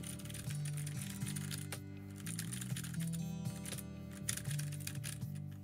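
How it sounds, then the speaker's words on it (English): Clicky mechanical keyboard with Cherry Blue switches typed steadily over a low background hum, the keystrokes quiet and close with short pauses between bursts. "Hear the keyboard?"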